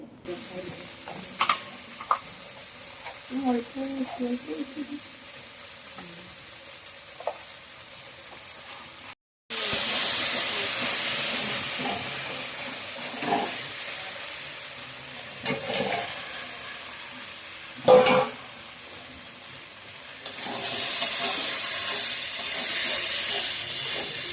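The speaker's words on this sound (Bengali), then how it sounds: "দেখছো মশলাটা সুন্দর কষে গিয়েছে" Spice masala sautéing in a pan for crab curry, quiet stirring and scraping at first, then a loud hissing sizzle that swells with scraping strokes and stays close and steady.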